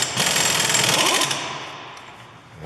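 A pneumatic impact tool hammers loudly at a Peugeot 308 front hub nut in a rapid, rattling burst, then winds down into a fading mechanical whir.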